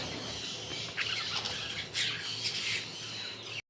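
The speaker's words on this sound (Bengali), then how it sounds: "চলে এসেছে বাজরিগার পাখিগুলো।" Budgerigars in a home bird collection let out several short, scratchy squawks at close range, spaced a second or so apart over faint, quiet background noise.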